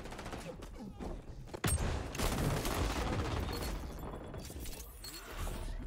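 Gunfire rattles in the shooter game XDefiant, including an M249 machine gun: dense, continuous bursts with one sharp impact, heard loud and close over game noise.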